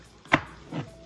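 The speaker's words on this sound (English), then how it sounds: "And now I am showing you how I cut my bell pepper." A knife slices through a bell pepper on a cutting board while making Haitian pikliz, two crisp, close cuts a moment apart with no talking.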